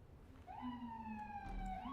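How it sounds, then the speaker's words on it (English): Police car siren in the Resident Evil 4 Remake video game, a single faint rising and falling wail heard in the background for about a second and a half, with no talk. "go away, police car."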